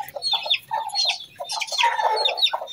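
Several hens give busy, overlapping clucks and squawks in a backyard setup, close and continuous, with sharp high calls mixed in and no speech.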